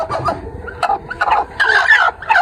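Several chickens in a sand-floored coop cluck close by in short, irregular bursts, with higher squawky calls overlapping toward the end.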